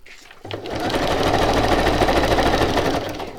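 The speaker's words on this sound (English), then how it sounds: "I might zigzag stitch that down just for something different." A sewing machine runs a zigzag stitch on a handmade mini journal project, starting after a brief pause and then whirring steadily and loudly at close range for about three seconds before easing off.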